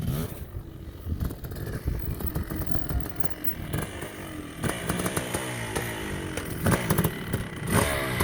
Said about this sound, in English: I'm going to teach them how to do third gear hole shots